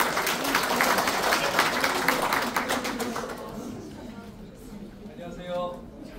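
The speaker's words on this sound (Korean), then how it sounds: "큰 박수로 맞이해 주시기 바랍니다." Audience applause fills a strategy seminar hall as a presenter is welcomed. Brisk, moderately loud clapping lasts about three seconds, then fades into quiet room sound and a voice.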